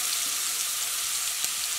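Tomato and onion sizzle together in a hot pan, a steady soft hiss of frying running throughout with one faint click near the end, no voices.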